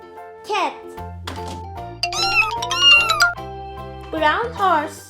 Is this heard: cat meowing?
yes